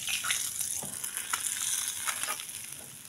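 Tilapia fish frying in hot oil, a steady close sizzle with scattered crackles and pops running throughout, no voices.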